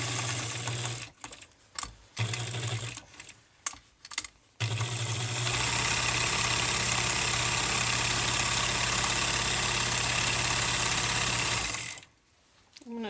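A sewing machine stitches a cotton mask, first in short stop-start bursts of whirring, then in one long continuous hum of rapid stitching that lasts several seconds before stopping abruptly, close and clear, with no talking.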